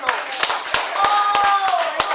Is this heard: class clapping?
yes